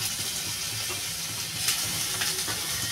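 Cumin powder and ginger paste fry in hot oil with a steady, close sizzle and crackle, with faint stirring scrapes mixed in.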